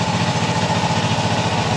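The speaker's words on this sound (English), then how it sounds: "you can hear one cylinder. It's actually this left cylinder, you know, starts to cut out" A Honda CB360 twin idles and runs unevenly, its left cylinder cutting out, a close, loud, pulsing engine drone with an irregular beat across a short stretch, no talking.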